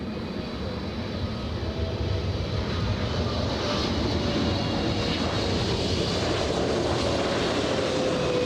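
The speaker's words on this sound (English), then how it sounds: "China Airlines 777 flying in from Taipei." A China Airlines Boeing 777 arriving from Taipei and landing at Los Angeles International Airport, with a steady, loud jet engine roar and whine that holds constant across the whole stretch, no voices on top.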